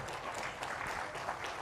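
Audience at a hospital inauguration ceremony for computer-assisted joint replacement surgery claps steadily, a dense, even patter of applause at moderate distance.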